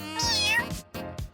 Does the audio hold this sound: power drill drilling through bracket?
no